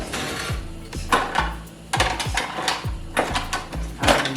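Seafood boil seasoned with brown sugar being stirred in a pot, repeated scraping clanks and knocks of a utensil against the pot in irregular strokes, close and fairly loud.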